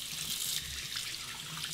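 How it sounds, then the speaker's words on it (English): Henson AL13 safety razor rinsed under a running sink tap, a steady close splash and rush of water with a few fuller gushes, fairly quiet and without speech. "Let's rinse it."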